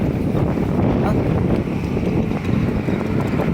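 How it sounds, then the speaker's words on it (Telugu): Strong gusty wind of an approaching dust storm roars steadily in Mancherial, buffeting the microphone with a constant loud rush and no pauses. "చూడండి ఫ్రెండ్స్, గాలి దుమారం ఎట్లా వస్తుందో"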